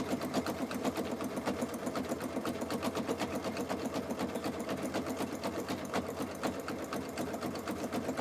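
A sewing machine stitches a jelly roll rug with a steady, rapid mechanical chatter that runs unbroken and close throughout, with no voices.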